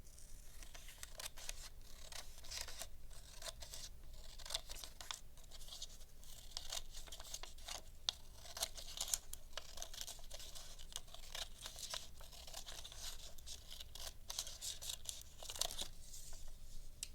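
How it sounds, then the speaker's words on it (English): Scissors snip through a strip of paper for a bracelet craft, a quick run of crisp, close cuts and crinkles repeating steadily for a long stretch with no talk. "And this is the last cut we're going to make so that we have this width to work with to make our bracelet."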